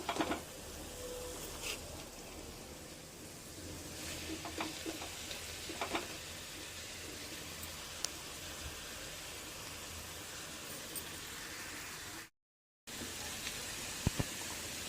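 Leafy greens frying in a pan, a steady close sizzle and crackle that runs on without pause, with occasional soft stirring scrapes and one brief dropout.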